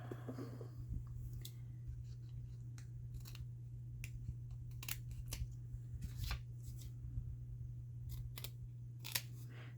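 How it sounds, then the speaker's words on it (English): Scissors snip out dried polymer clay tiles, giving a quick series of sharp, close clicks and cuts over a steady low background hum, with no talking. "I think these are dry enough to cut out real quick"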